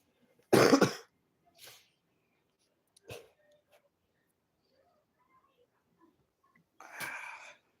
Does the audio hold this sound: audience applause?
no